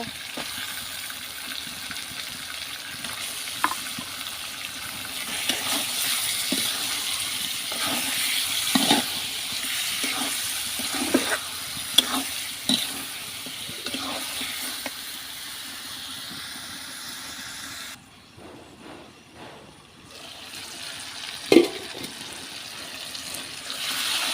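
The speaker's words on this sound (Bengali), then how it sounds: "এবার আমার তরকারির কষানো শেষ এখন আমি মাছ দিয়ে দেবো" Hilsa fish pieces frying in a taro curry, a steady hiss of sizzling oil with scattered pops and clatter, briefly dropping quieter near the end before resuming.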